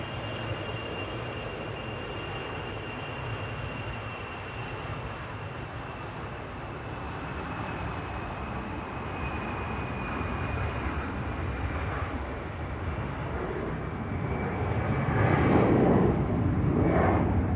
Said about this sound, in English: It's a little secretive Bombardier Global